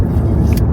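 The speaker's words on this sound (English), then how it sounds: "That's that little ugly car. See? Making all that noise." Small, noisy car heard from inside a vehicle on a drive: a brief, loud, low engine rumble with a rough, droning texture, no voices present.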